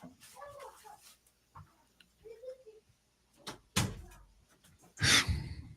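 A door is closed with a sharp thump near the end, preceded by quiet shuffling, handling noises and a soft knock in an otherwise quiet room.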